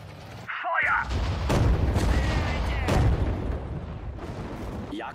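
Heavy booming artillery fire in Sudden Strike 4, several deep blasts rolling over one another amid battle noise and a voice speaking German commands.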